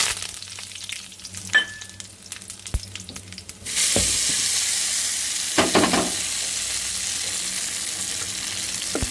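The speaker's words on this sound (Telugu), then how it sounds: "ఆయిల్ అయితే బాగా వేడింది కదా తాలింపు వేసేసుకున్నాం" Tempering spices for a chutney dropped into hot oil, a few light clinks and taps first, then a sudden loud burst of sizzling that settles into a steady close crackle with a couple of stirring scrapes.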